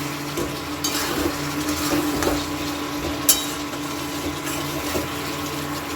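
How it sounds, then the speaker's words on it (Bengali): Chicken and spices are stirred in a pan over a medium gas flame, a steady sizzle under repeated scraping, stirring strokes from a spoon, close and continuous with a few sharper clanks. "মাংসের সাথে মশলাটাকে ভালো করে মিশিয়ে দিচ্ছি এ সময় গ্যাসের ফ্লেমটাকে কিন্তু আমি মিডিয়ামে রেখেছি"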